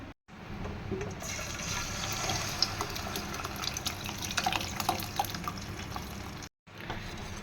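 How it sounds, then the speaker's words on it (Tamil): Mashed spinach and lentil dal is poured into a hot tempering in a kitchen, producing a steady wet pouring and bubbling wash that runs for several seconds with no voices. "இப்போ வந்து நம்ம தாளிப்பில் இதை வந்துட்டு ஊற்றிடலாம்"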